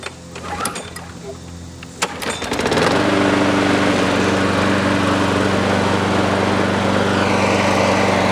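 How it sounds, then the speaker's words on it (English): A Toro self-propelled lawn mower starts after a couple of pulls; a brief ragged sputter gives way to a loud, steady engine drone held close to the mic for the rest of the clip. "we'll do a demonstration of the functionality of the machine so you can see it running for the final video for this Toro self-propelled lawnmower"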